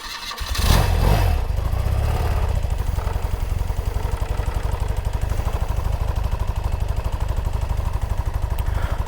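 A 1982 BMW R100RS motorcycle engine, semi-warm, cranks and fires, revs briefly, then settles into a steady, loud, rhythmic idle close by with no voices.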